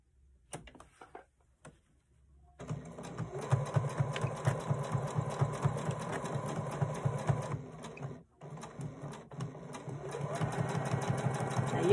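A sewing machine runs a 1/8-inch seam on fabric sailboat sails, starting after a few soft handling clicks and whirring steadily and loudly for several seconds with a brief pause before resuming.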